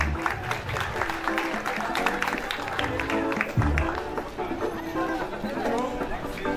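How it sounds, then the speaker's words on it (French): Audience applause at a 2021 award ceremony for graduating students, steady clapping that carries on continuously with crowd murmur and voices mixed in underneath. "On applaudit."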